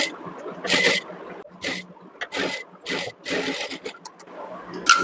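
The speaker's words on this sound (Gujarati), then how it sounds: "હવે આની ડબલ સિલાઈ કરી દઈશું" A sewing machine double-stitches bias binding onto a blouse neckline in several short, close whirring bursts separated by brief pauses.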